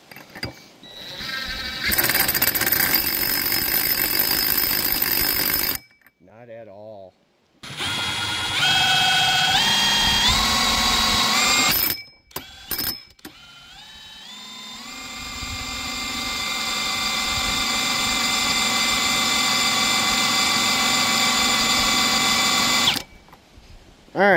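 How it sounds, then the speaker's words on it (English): A Ridgid impact driver spins the shaft of a VEVOR windmill generator, producing a loud, sustained mechanical whine. The pitch steps up and holds, drops out briefly a few times, then ramps up steadily and runs steady before stopping. "I'm gonna try the smaller impact, see if it goes any faster."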